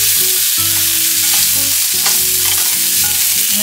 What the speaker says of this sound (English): to fry the red onions